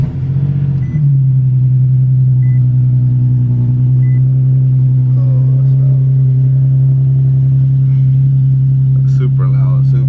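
A Nissan 370Z cold-starts after sitting for days, a brief crank giving way to a loud, deep, steady idle drone close by, with faint background sounds toward the end.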